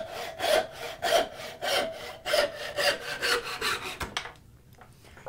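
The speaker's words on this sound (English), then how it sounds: "you notice I switched from my cross-cut carcass saw to my tenon saw" A tenon saw cuts wood at a workbench with steady back-and-forth rasping strokes, roughly two per second, loud and close, ending in a clunk and then quiet, with no talking.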